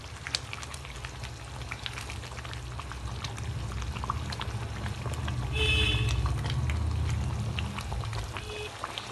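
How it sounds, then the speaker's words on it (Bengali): Onion-boiled water poured into a simmering pan of chicken rezala, a steady hissing splash and bubbling sizzle running throughout, with a brief louder swell of pouring near the middle. "এইবার যে পেঁয়াজ সেদ্ধ করার জলটা ছিল সেটা আমি এখানে কিছুটা দিয়ে দেব।"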